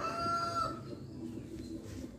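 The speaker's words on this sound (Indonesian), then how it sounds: "Kalau kicau pagi yang kita dengar itu di sini banyak ya" A rooster crows and birds call outdoors, a clear drawn-out crow at first followed by softer bird sounds in the background.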